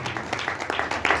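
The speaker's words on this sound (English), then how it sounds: "Can you please clap hands to the Lord?" An evangelical church congregation claps hands together in a quick, regular rhythm, several dense bursts in a row filling a reverberant hall, with a faint voice underneath.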